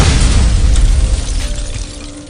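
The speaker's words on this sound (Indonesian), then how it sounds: "Jack yang sendirian mulai terkepung oleh pasukan Andre dan hampir saja terbunuh akibat sebuah ledakan" A deep explosion in an action film about a deadly sniper: a loud, heavy low rumble that fills the opening and slowly fades away over a couple of seconds.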